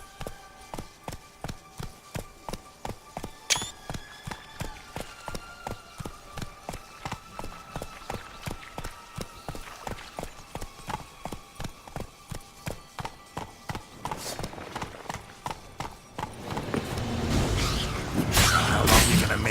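Roach the horse gallops in The Witcher, with rapid, evenly spaced hoofbeats thudding in a steady rhythm that builds into louder rushing and clattering near the end.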